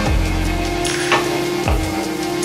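Ginger paste stir-fried in a pan, a close, continuous loud sizzle with scraping and stirring strokes of a utensil against the pan.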